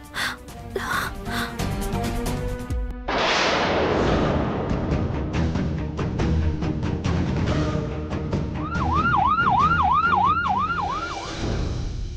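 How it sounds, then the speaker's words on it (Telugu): Ambulance siren wailing loud and near for several seconds in a fast rising and falling pattern over traffic noise, after a brief musical passage at the start. "అంబులెన్స్."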